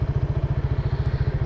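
Scooter engine idling close by, a steady, rapid low putter of even pulses with a faint mechanical clatter, no talking over it.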